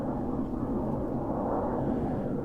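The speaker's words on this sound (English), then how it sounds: "Don't know if you can hear me with the fighter jet going over." A fighter jet passes overhead beside a local drain, a steady broad roar that fills the whole clip without letup and without any talk over it.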